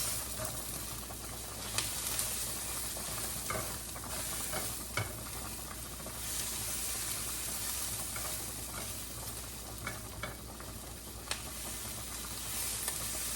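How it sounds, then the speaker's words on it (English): Onions fry in a pan for cheeseburger pasta while a utensil stirs them, a continuous close sizzle broken by scattered scraping clicks and taps, with no voices. "let's stir the onions."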